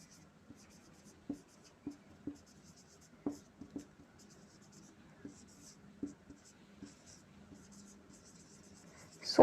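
Pen writing notes during a NEET biology lesson on DNA mutation, giving soft, close scratches and light irregular taps that come and go quietly, with faint murmuring underneath.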